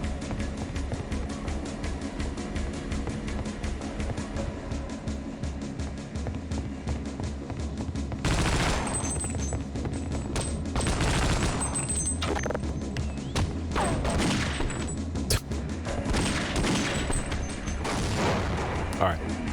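Video game gunfire in Half-Life: Opposing Force, with a rapid ticking stream of shots and then heavier, louder bursts and booms mixed with mechanical clatter, while voices talk over the action.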